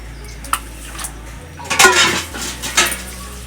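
Gobindobhog rice being washed in a metal pot by hand, with water sloshing and grains and pot clinking in a few uneven bursts, close by and moderately loud, with no talk.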